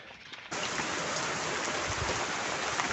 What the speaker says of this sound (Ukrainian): Ух, оце злива.